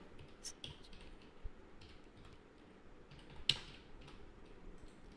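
Quiet, sparse keystrokes on a computer keyboard while an online passport application form is filled in, with irregular clicks and one sharper tap against a faint room hum.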